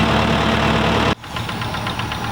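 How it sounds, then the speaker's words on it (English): A tractor engine runs close by with a single furrow plough attachment while cultivating, a loud, rough knocking idle that cuts sharply mid-way to a quieter, pulsing mechanical chug. "this time they've got the single furrow plough attachment on the tractor, so they're cultivating"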